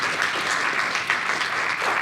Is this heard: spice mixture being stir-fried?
no